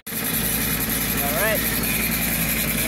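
Mower reels on a Jacobsen or Toro reel mower spinning backwards during backlapping, a loud steady mechanical drone with an engine hum that runs continuously, with a brief voice heard partway through.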